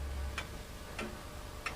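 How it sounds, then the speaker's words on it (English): A 19th-century Bontemps mantel clock ticks three times, sparse and crisp against a quiet low hum, with no one speaking. "This magnificent 19th century mantel clock was made by Bontemps, primarily a maker of singing birds."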